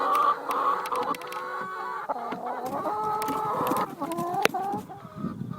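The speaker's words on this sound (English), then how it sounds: "listen to that singing. That's the first sign of a really happy chicken." Free-range chickens cluck and sing steadily at close range, with overlapping rising and falling calls and a few rooster-like crowing notes running throughout.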